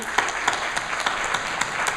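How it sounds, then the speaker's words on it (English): Applause at an event honouring two guests, a steady wash of many hands clapping at moderate loudness with scattered sharper claps, no speech over it. "we have Buddy Brandt and Judith Nissenholt, who I want to also give a round of applause to."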